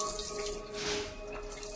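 Water falls steadily from a tap or small fountain inside a house, a continuous close splashing and trickling with a faint tonal hum underneath, no talk.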